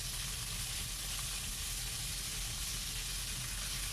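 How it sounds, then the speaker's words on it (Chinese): Fatty white pork belly dry-fries in a wok, rendering its fat with a steady, even sizzle and hiss, faint and continuous with no voices. "先将白色的肉放到锅里，干炒一会儿以后，烤出白肉里边的油"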